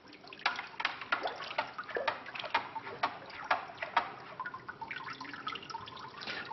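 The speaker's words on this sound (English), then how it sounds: "And put the water into rotation." Water set rotating sloshes and swirls in a jar, with irregular drips and clicking splashes over a low, steady wash.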